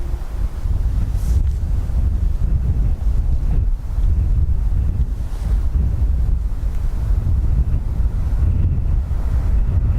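Gusty wind at Dublin Airport buffets the microphone in loud continuous rushes and rumbles, swelling and easing in irregular gusts with no voices.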